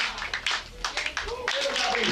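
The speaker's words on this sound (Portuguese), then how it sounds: "Sentados junto à comunidade, turistas batem palmas para a Senhora de Ojá" Tourists seated among a quilombo community clap for a singer in a white lace dress, a scatter of moderate, uneven claps with a voice speaking over them.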